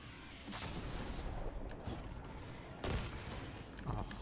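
Gunfire in the video game Destiny 2, rapid bursts of shots and thumps over a dense, noisy game soundscape, fairly faint in level and with no talking.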